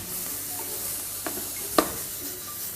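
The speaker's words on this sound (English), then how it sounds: "then we add our onion, lime leaf and cinnamon quill, toss it around" Onion, lime leaf and cinnamon quill frying in a pan, a soft steady sizzle with a couple of sharp clinks as the ingredients are tossed around, close and clear with no talking.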